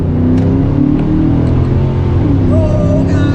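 A car fitted with a cold air intake pulls hard in second gear while merging onto a highway, its engine droning loud and close with a steady rising tone throughout.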